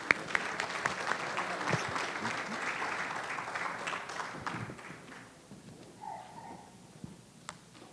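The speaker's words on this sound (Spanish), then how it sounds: "lo despedimos con un fuerte aplauso" A conference audience gives strong applause for a departing speaker, steady clapping that fades toward the end, leaving scattered claps and faint room noise.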